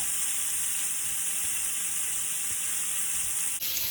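Steady, bright sizzle of food frying in a hot pan as part of a keto Greek meal, a continuous close hiss with no talking.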